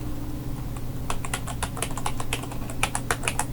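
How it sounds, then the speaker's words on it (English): Keys clatter on a computer keyboard while a password is entered: a steady run of crisp, close keystrokes after a brief quiet start, over a low constant hum. "go ahead and type in your password"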